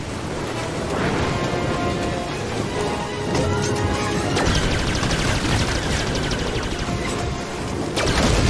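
Gunfire in Star Wars Jedi: Fallen Order played on an Xbox Series S, a dense stream of blaster-style shots and crashes running steadily throughout with little talk.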